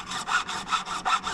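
A sanding beam rubs back and forth across guitar frets along the fretboard curve, seven steady even strokes in a quick rhythm, close and moderately quiet with no talking.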